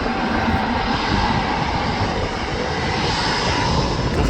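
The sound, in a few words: KLM airliner departing Manchester Airport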